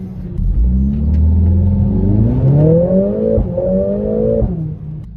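Mercedes-AMG A45 hot hatch engine revving hard under acceleration, a loud close rising growl with pitch climbing through gears and a brief dip between shifts, no talking.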